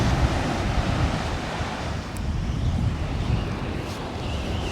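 Wind gusting across a soft-sand beach at Sutton On Sea, a steady loud roar of wind buffeting the microphone with surf washing behind it, continuous throughout.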